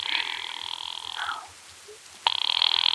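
A telephone rings with a steady electric bell trill that stops, pauses briefly, then starts again, loud and near.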